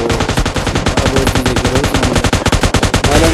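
Rapid machine gun fire in the video game PUBG Lite rattles nonstop in a dense, loud burst of shots with barely a gap.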